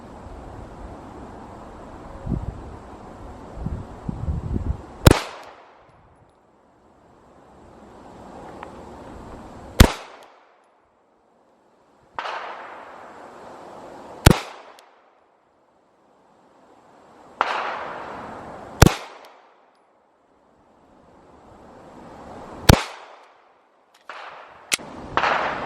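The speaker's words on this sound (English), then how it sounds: "Five slow shots with the Walther." Walther PDP F-Series handgun fired slowly at an outdoor range, six sharp loud shots spaced several seconds apart, each followed by a fading echo, with faint wind between.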